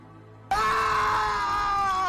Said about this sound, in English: the man's screams tore through the room